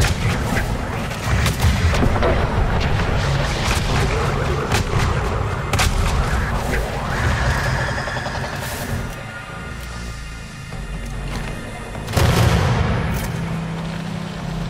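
Dense, continuous booms and bursts of gunfire from the video game Weird West rumble throughout, with a heavy blast near the end, loud and chaotic like a battle.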